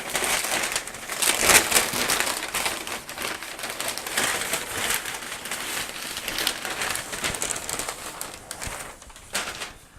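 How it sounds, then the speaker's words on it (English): Laserdisc packaging is handled up close: crinkly plastic and cardboard rustle, crush and crumple in busy bursts, with one sharper crackle early on and quieter shuffling afterward. "I will just grab all the packaging here"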